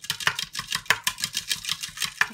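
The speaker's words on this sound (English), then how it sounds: "Give it a stir." A spoon stirs iced vanilla coffee with milk in a glass, giving a quick run of bright clinks and ice clatter in an irregular rhythm, close up and with no one talking.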